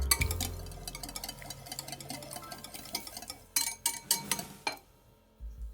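Two eggs and two tablespoons of mustard are whisked together in a bowl, producing quick, light clinking and tapping of utensil against the bowl in uneven bursts, close and fairly quiet with no talking.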